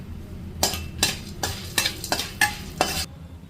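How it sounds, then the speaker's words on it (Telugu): Urad dal, black peppercorns and three dried chillies roasting in half a spoon of oil in a pan, stirred with a spoon that scrapes and clinks against the metal in about seven regular strokes over a soft, steady sizzle. "వేడెక్కింది మినపప్పు, మిరియాలు, మిరపకాయ 3 కలిపి వేయించుకోవాలి."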